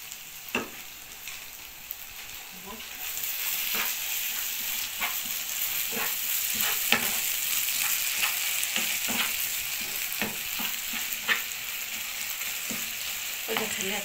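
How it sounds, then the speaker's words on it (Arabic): Steady, bright sizzle of tomato sauce frying in a pan, with occasional sharp pops and spoon scrapes throughout, fairly close and without talk. "وغادي نخليها تقلي واحد شويه"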